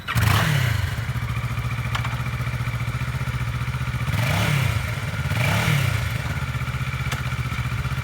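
Idling engine of a used 2013 Kawasaki 650 Ninja twin-cylinder sport motorcycle, a steady close rumble broken by a few short throttle blips, with no talking.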